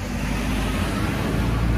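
A minibus rolls past on a narrow street in Ibiza Old Town, its engine a low, steady rumble close by, with no voices over it.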